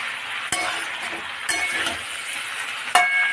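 Jackfruit curry is stirred in a pan, with three sharp metallic clinks of the utensil against the pan over a soft continuous sizzle, close by.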